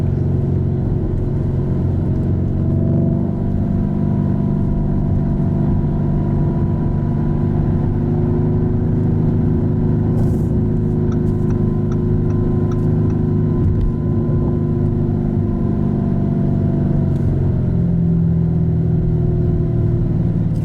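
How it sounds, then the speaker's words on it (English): A Lamborghini Urus all-wheel-drive SUV engine hums steadily from inside the cabin, a quiet, low smooth drone that rises gently in pitch as it accelerates. "it's extremely quiet, but you can hear the engine"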